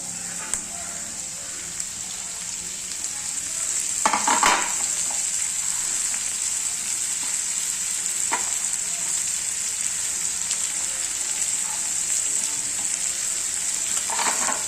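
Tomatoes tipped onto browned onions frying in a pan, with a loud continuous sizzle and hiss, a few scraping stirs and clatters, and no talk.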